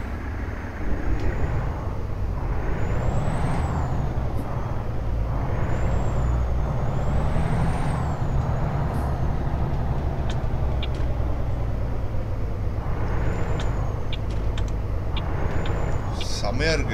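A Freightliner truck engine in American Truck Simulator runs with a steady, deep rumble and a rising and falling whine as it pulls along, a sharp air-brake hiss near the end, and someone talking over it.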